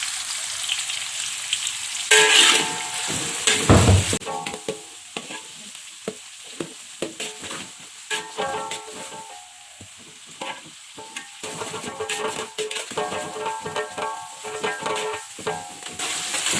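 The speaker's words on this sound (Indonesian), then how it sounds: "lalu kita tumis ini bawang bombay yang kita iris-iris" Sliced onions sauté in hot vegetable oil for nasi minyak, a close, steady sizzle broken by repeated clattering scrapes of a spatula stirring the pan.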